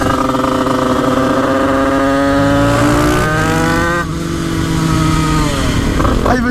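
A Bidalot 96 motorcycle revving hard and accelerating, the loud buzzing two-stroke-style whine rising in pitch, dipping briefly and climbing again, close and continuous with no talking.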